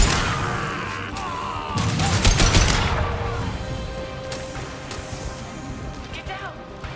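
Gunfire bursts in Mass Effect 2 Legendary Edition, dense and loud around the middle with sharp cracks and mechanical clatter, thinning into scattered shots and a final crack, with speech mixed through.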